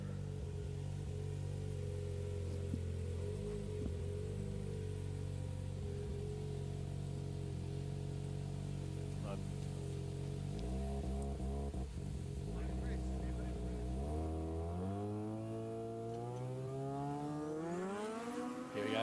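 Drag race at an Aeroflow Race 4 Real event, a Nissan 370Z against an older car, engines roaring loudly and then rising sharply in pitch as the cars launch, over a steady rumble with an announcer talking throughout.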